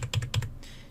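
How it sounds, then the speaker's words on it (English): Computer keyboard arrow keys tapped about five times in a quick uneven burst, close and crisp, while a 3D model is nudged into place in a CAD program; a soft hum trails off afterward. "And then I'm going to use the arrow keys to move it back to the spot I want."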